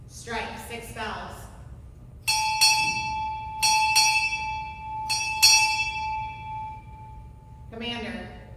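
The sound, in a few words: ship's bell struck six times at Navy ceremony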